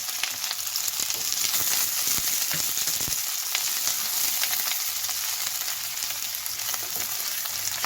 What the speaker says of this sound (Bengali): তিনটে পেঁয়াজ কুচি আমি দিলাম দিয়ে আমি এবার ভালো করে এটাকে কষিয়ে নেব